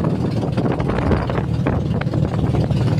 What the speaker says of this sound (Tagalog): Oy, lakas ng hangin.